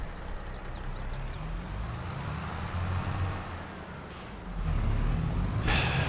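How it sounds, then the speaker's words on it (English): A tractor in Farming Simulator 22 rumbles low and constant, swelling louder toward the end, with short sharp bursts of air hiss. "And let's get back in this tractor."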